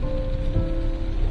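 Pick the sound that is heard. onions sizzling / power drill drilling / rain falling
rain falling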